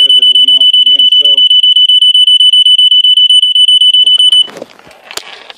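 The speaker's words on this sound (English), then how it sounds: "it finally went off on its own" A Gentex 710CC photoelectric smoke detector sounds a loud, piercing continuous alarm tone with rapid pulsing for about four seconds, then cuts off, leaving faint handling noise and a brief voice at the start.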